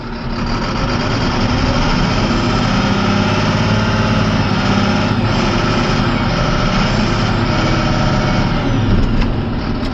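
A loud, rough diesel truck engine roars continuously up close, its heavy rumble holding steady with slight surges in pitch.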